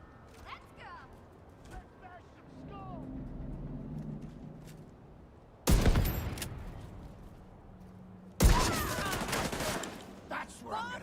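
Gunfire in The Division 2, two sharp bursts of shots standing out over a quiet backdrop of game sounds, with a voice talking faintly in the earlier part.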